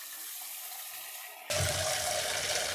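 Tap water runs over chicken pieces for biryani being washed in a home kitchen, a steady stream that suddenly grows louder and fuller partway through, close by with no talking.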